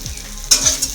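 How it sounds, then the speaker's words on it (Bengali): Egg frying in a pan, a brief close burst of hissing sizzle with a sharper spatter about halfway through, fairly loud, no talking. "এখানে ডিম ভাজা, ডিম দিয়ে আর এই ম্যাগি।"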